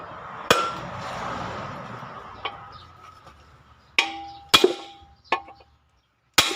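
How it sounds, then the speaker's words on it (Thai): Hammer blows ring out against the front wheel nuts of a ten-wheel truck during a wheel-bolt replacement: sharp, isolated metallic strikes at irregular intervals, several clustered close together, with quiet gaps between. "ตอกออกอีกครับ"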